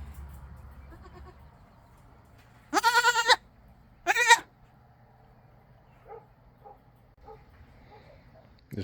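Goats on a family farm bleat loudly for a bottle on an overcast Sunday, two long, wavering calls close by, followed by a few softer, distant animal calls over quiet farmyard ambience.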